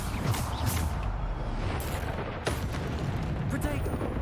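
Bombarda blasting-spell explosions in a wizard video game, several booming bursts spread across the moment amid steady background game noise and a voice.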